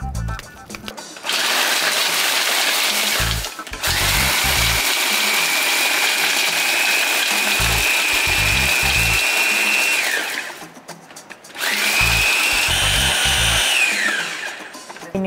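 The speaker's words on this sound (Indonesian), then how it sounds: "Oke, kita bakal mulai blender." A kitchen blender grinds chilies for sambal in loud, sustained whirring bursts that are briefly stopped and restarted, with talk in the short pauses.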